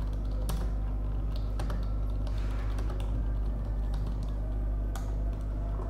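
Continuous typing on a computer keyboard, a steady run of close, light key clicks over a constant low electrical hum, with no voices.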